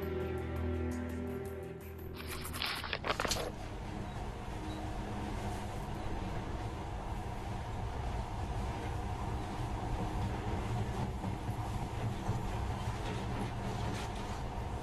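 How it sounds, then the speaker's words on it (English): A monorail ride in Metro: Last Light, a steady rumbling rail drone with a brief mechanical burst near the start, then a continuous even hum at moderate level with no talk. "In the past, trains were ordinary things, but now, this monorail seems magic, doesn't it?"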